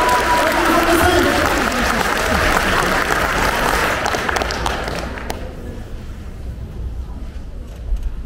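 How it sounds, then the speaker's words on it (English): A large audience at a Comic Con Stockholm 2022 cosplay competition bursts into loud, dense applause for cosplay performers, roaring for about five seconds before thinning to scattered claps and a murmuring crowd. "A big round of applause for Even and Even of Cosplay!"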